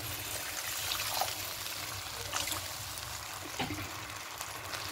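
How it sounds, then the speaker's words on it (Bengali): Water poured into a mixer jar while making a poppy-seed rohu fish curry, a soft continuous trickle and splash at close range, fairly quiet, with no speech. "এবার এখানে মিক্সিতে জলটা দিয়ে দেবো। আর একটু জল দেবো।"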